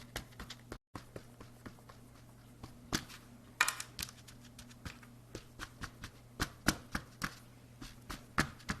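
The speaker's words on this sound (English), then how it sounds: "I'm going to get mine pressed out in this big pan" Butter shortbread dough is pressed into a large pan by hand, making soft irregular taps and pats that repeat closely, with a low steady hum underneath and no talking.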